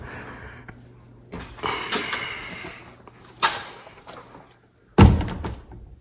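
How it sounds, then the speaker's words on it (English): A door being shut after refitting during a home remodel, its frame trimmed to clear newly hung sheetrock, gives a solid thunk at the end, with a couple of softer knocks and handling sounds before it in a quiet room. "Then it closes fine."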